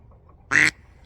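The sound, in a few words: imitated duck quacks to attract ducks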